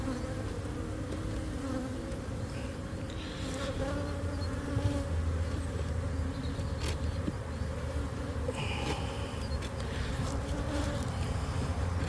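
Honey bees swarm around an open beehive box during an inspection, a steady, dense buzzing hum that fills the air with faint clicks and handling sounds, no voices.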